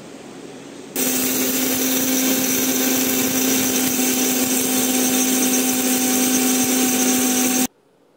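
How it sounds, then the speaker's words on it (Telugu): A mixer grinder starts abruptly and runs at a loud, steady whirring pitch for about seven seconds before cutting off sharply. "తర్వాత మిక్సీకి అయితే తీసుకున్నాను నేను."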